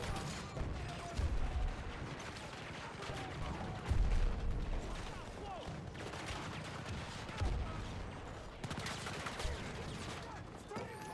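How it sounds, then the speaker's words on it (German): In the video game Battlefield 2042, a thrown grenade and gunfire make dense overlapping bursts and booms with a few heavier blasts standing out, kept at a moderate level throughout with battle voices mixed in. "Granate geworfen!"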